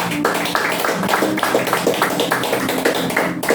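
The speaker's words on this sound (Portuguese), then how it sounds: "palmas ao Senhor" Congregation in a church service clapping in steady rhythm, a continuous run of dense, even hand claps filling the room from start to finish, with faint voices underneath.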